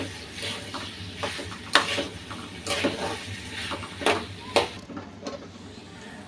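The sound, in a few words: stirring okra with spiced prawns in a pan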